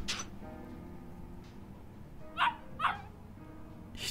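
Dog barking in Yakuza Kiwami, two short close barks in quick succession partway through, over a low quiet ambient bed.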